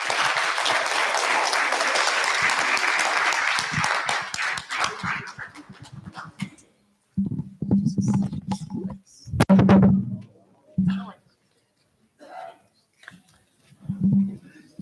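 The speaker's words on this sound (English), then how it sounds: "So join me, ladies and gentlemen, with a resounding and very loud applause" Loud audience applause at a conference opening fills the first seconds, then dies away into scattered sounds and a voice speaking.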